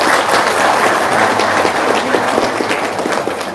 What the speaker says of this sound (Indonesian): Sip, tepuk tangan dia.